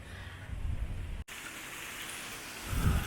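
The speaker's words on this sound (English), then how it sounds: "It is raining so hard," Heavy tropical rain pouring down in the Philippines over tarps sheltering workers doing rendering, a dense, steady hiss with low rumbles and a brief cut partway through.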